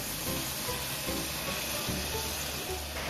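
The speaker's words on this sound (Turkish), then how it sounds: "Ispanaklarımızı da tenceremize aktarıyoruz" Spinach tipped into a hot pot and sautéed for soup, producing a continuous loud sizzle and hiss close by with faint stirring underneath, no voices.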